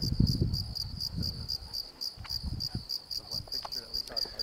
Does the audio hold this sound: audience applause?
no